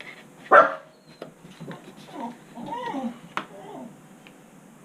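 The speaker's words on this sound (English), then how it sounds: "Just ignore the dog" A dog gives one sharp, fairly close bark, followed by softer whimpering or vocal sounds in a quiet indoor room.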